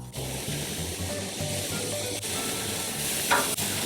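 Large cut of Costco Bill Bailey's beef carne asada sizzling on a hot grill, a steady close hiss with faint spits and crackles.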